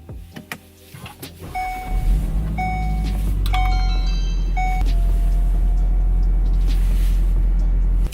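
A 2019 Volkswagen Golf R with lowering springs and dynamic chassis control pulls away and drives, a loud, steady low engine and road rumble building after a few seconds of door and interior chimes, then holding constant.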